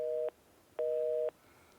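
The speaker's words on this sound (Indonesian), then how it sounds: "tampaknya sambungan telepon terputus" Telephone busy tone after a dropped call: steady beeps in an even on-off rhythm, clear and alone over faint line hiss.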